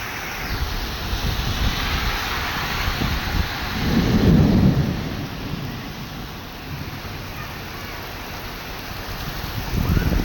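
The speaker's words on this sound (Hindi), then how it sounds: "बारिश तेज़ हो गई है" Heavy rain pours steadily in Medina with a low rumble of thunder swelling midway through, a dense continuous wash close by and without talk.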